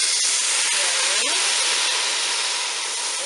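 Water hisses and steams loudly in a hot pan while garlic vegetable rice cooks, a steady, dense sizzling roar throughout with a few faint crackles and no voices.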